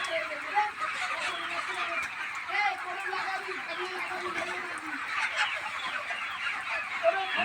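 Chickens cluck and peck while eating feed, with overlapping soft calls repeating throughout at close range over steady background noise.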